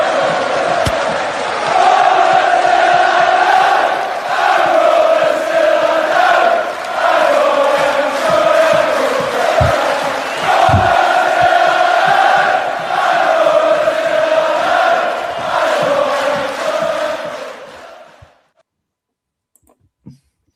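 A rugby match crowd of more than 8,000 produces a dense, steady roar of noise that holds for many seconds before cutting off abruptly near the end.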